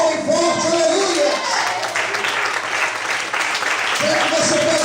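A church congregation claps strongly together as a worship leader calls out over them, the sustained applause rising and swelling around the voice.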